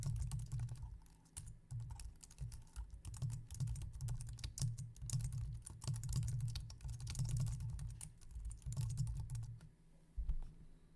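Steady typing on a computer keyboard, close and clear, with quick irregular bursts of key clicks and thumps continuing throughout, pausing briefly near the end before a final flurry.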